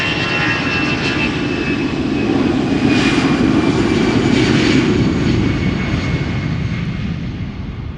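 An Aer Lingus Airbus A320 jet at Schiphol Airport makes a steady, loud engine roar with a broad rumbling whoosh that swells slightly and then holds throughout.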